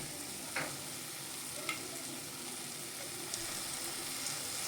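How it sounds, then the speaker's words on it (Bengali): Masala with chopped coriander stirred in a pan, a steady low sizzle with a few soft scraping strokes, close and quiet with no talking. "কুচিয়ে রাখা ধনেপাতা দেওয়ার পর আবারও কিছুক্ষণ আমি ভালো করে নেড়ে নেব"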